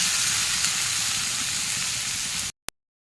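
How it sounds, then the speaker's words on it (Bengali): Mashed cauliflower stir-frying in a pan on a lowered gas flame gives a steady, close hiss of sizzling oil lasting a couple of seconds, then cuts to silence with one brief blip. "এদিকে তো ফুলকপিটা এইভাবে নাড়াচাড়া দিয়ে দিয়ে একটু হালকা হালকা ভাজা ভাজা করে নিচ্ছি।"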